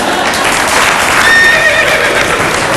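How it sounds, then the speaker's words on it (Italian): A horse whinnies loudly in a comedy stage show, with a drawn-out tonal neigh rising in the middle over a dense, constant wash of background noise. "Ho sentito un nitrito di cavallo, lo sento di nuovo."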